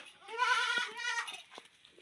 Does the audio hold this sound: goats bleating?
yes